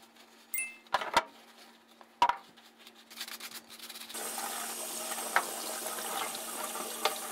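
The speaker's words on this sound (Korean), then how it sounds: "이물질과 유분기를 제거하기 위해 세척을 하고 건조 작업을 할 겁니다." Power tool parts get washed with running water to strip grime and oil, beginning with a few sharp knocks and clinks, then a continuous splashing, spraying rush that fills the second half.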